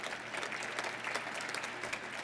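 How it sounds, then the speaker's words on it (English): At a free expression awards ceremony, an audience applauds. The clapping is continuous and evenly textured, heard from a moderate distance and somewhat soft, with no talking over it. "let's give them applause"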